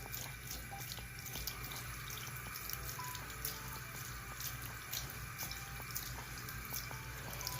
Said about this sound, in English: I'm putting lukewarm water on to rinse them off